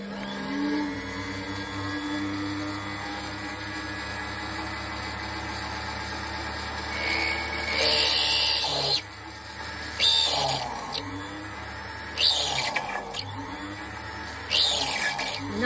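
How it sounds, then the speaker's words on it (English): A setting burr grinds into a sterling silver wire pendant to cut a seat for a stone, a steady close whirring motor hum with louder bursts as the burr bites into the metal in repeated short passes. "So this is going to take a lot of the silver out now, ready for the setting burr."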